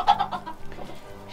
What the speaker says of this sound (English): Here's Mama Hen.